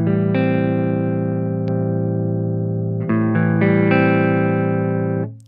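An electric guitar runs through a Taurus SH8 Qube distortion pedal with the range boosted, giving a thick, sustained overdriven chord that holds and then shifts to a brighter chord before cutting off.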